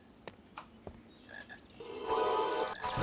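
A chocolate frog croaks in a Harry Potter video game, a few short calls followed by a louder, sustained rattling croak near the end, with no talking.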